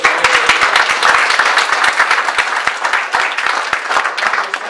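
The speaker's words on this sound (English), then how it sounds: "And a round of applause for the League of Women Voters" Loud, sustained audience applause, many hands clapping together in a thick continuous wash from start to finish.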